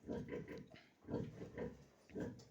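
Piglets being vaccinated and tail-docked grunt faintly in three slow, rhythmic bursts, each swelling and fading with short quiet gaps between.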